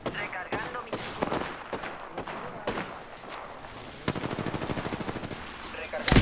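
Rapid bursts of automatic gunfire in the battle game Apex Legends, sharp cracks in quick sequences, with a denser steady volley near the end, loud and close.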